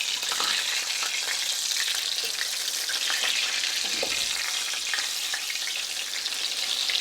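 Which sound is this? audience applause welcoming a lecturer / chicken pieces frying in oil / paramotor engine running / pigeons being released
chicken pieces frying in oil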